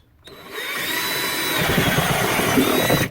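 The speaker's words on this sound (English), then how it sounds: "So now I'm just gonna take my drill and drill it out." A power drill starts up after a brief quiet moment and runs steadily with a high whine and grinding rumble, close by, without pause.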